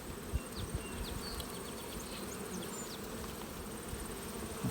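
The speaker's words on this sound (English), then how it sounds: "Bees just coming out here." Honeybees buzz around brood frames as new bees emerge from their cells, a dense steady hum of many insects close by with occasional brief louder passes.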